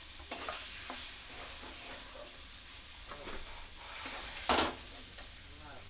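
Tomatoes frying in a pan for yogurt chicken, a steady low sizzle with a few soft spoon scrapes and taps as they are stirred, close by and fairly quiet.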